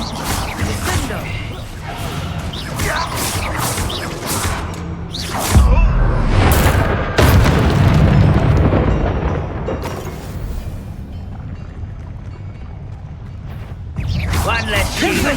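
Descendo spell impacts in Hogwarts Legacy, heavy booming crashes and rumbling smashes mixed with other combat effects, loud and close, with a voice talking over parts of it.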